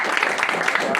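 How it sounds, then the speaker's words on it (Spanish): Applause rises after a Spanish-language talk or workshop session on making cross-platform sprites, a dense steady patter of clapping hands throughout with no voices over it. "Un aplauso."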